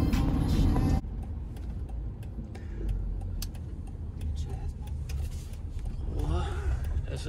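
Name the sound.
motocross bike engine revving on throttle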